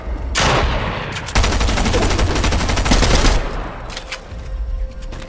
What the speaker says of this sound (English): Okay, so there's gunfire.